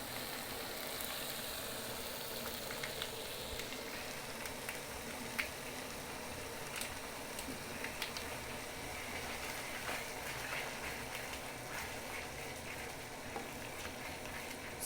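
Stock cubes and meatballs cooking in tomato sauce give a steady, soft sizzle and bubbling with faint crackles throughout, close and fairly quiet.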